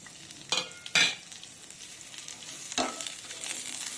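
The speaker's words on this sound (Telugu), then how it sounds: "ఒక మీడియం సైజు ఒక ఉల్లిపాయ తీసుకున్నాను, ఒక 7-8 పచ్చిమిర్చి తీసుకున్నాను. ఈ రెండు ఫ్రై చేసుకోవాలి." Chopped onion and seven or eight green chillies fry in hot oil for a ridge gourd tomato chutney, giving a soft, steady sizzle broken by a few sharp stirring scrapes in a quiet kitchen.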